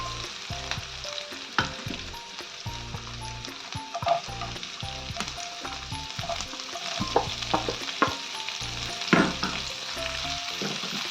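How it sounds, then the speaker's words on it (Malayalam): Sliced onions fry in oil left over from frying fish for a Kerala fish molly, a close crackling sizzle broken by repeated scraping and clattering of a spoon stirring the pan, with no talk. "അപ്പോൾ സവാള ഇട്ട് കൊടുത്തിട്ട് നമുക്കൊന്ന് ഇളക്കി കൊടുക്കാം"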